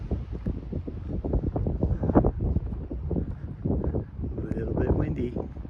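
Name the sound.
wind on a hiking trail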